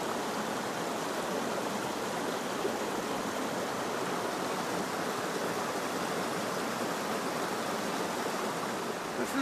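Steady broadband rush of the West Twin River flowing, a continuous even stream of water noise heard up close with no break over several seconds.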